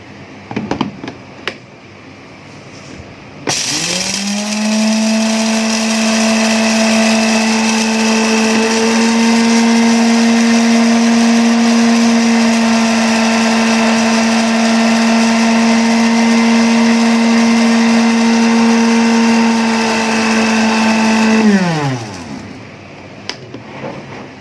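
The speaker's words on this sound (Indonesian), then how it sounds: "Kita haluskan dulu ladanya." Pepper (lada), about a teaspoon, being ground smooth in an electric blender for a homemade instant seasoning sachet mix: a loud, steady motor whine that spins up, holds for nearly twenty seconds, then winds down, with no talk.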